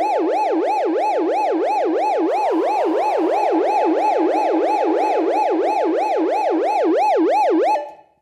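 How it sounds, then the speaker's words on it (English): A dub siren synthesized in Ableton with reverb sweeps up and down in a fast, regular wail, loud and alone, repeating about three times a second before cutting off with a short reverb tail. "So that's the bass of the siren."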